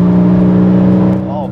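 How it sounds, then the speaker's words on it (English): A Porsche Cayman 981 sports car engine holds a loud, steady rev close by, its drone dropping slightly toward the end. "I'm going to enjoy more of this Cayman 981. And those phenomenal engine sounds."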